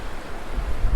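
Wind gusting at the seaside on an evening walk in Magaluf, Mallorca, a steady close roar buffeting the microphone with a low surf-like rush, no voices.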